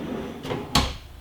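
A kitchen drawer in a converted school bus slides open, a soft rolling rumble followed by a sharper single thud as it reaches full extension, close and clear with no talk.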